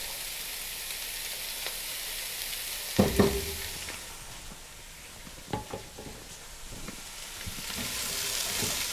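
Bell peppers and garlic sizzle steadily in a hot pan, a continuous frying hiss broken by a few clattering stirs and scrapes of a utensil against the pan.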